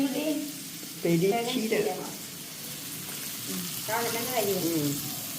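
Cumin seeds sizzle as they fry in a pan while a voice talks over the steady crackle.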